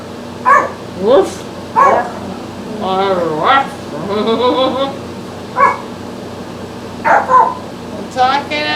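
A dog barks in short bursts and sharp yips, about eight loud, close calls spread unevenly, with a rising whine in between. A person talks over and between the barks indoors, at a home nail salon.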